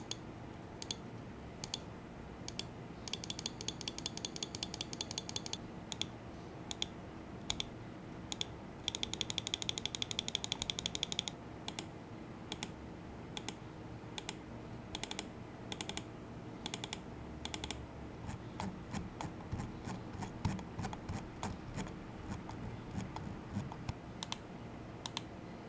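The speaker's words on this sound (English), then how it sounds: "Now here's a quick sound test to give you a better idea of how this mouse sounds" Clicks from an ATK U2 Ultimate Edition gaming mouse, close and crisp, come as single and rapid repeated presses. They alternate with ratcheting bursts of scroll-wheel notches and run for about twenty-five seconds with no talking.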